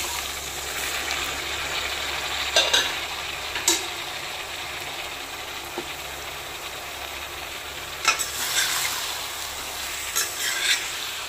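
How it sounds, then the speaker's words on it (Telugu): Vegetables tossed into a pan of fried onions for a colourful curry, a steady frying sizzle with scraping stir strokes and a few louder clatters of the spoon against the pan, close by and with no talk. "ఉల్లిపాయలు వేగిపోయినాయి. ఇప్పుడు వెజిటేబుల్స్ అన్నీ వేసేస్తా."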